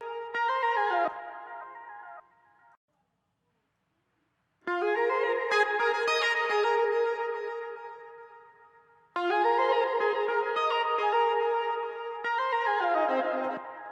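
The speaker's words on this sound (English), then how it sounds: "The synth that I have that is going on here is also from Logic." Lo-fi 80s synth lead from Logic Alchemy in an Afrobeats track, bright sustained chordal phrases in three separate bursts with a silent gap between the first two and a falling tail at the end.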